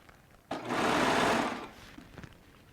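A Baby Lock Triumph serger sewing machine stitching in one short burst of about a second, loud whirring that starts sharply and winds down, with quiet handling noise before and after.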